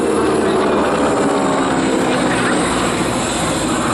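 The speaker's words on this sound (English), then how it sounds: "But just have a look at the shapes of the aircraft as they go through." A warbird flies past at the 2022 Wings over the Illawarra airshow, its engine a loud, continuous propeller drone that fills the scene with a steady roar and no pauses.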